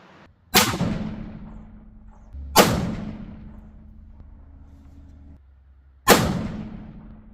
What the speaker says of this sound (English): now I'm going to shoot just the factory Federals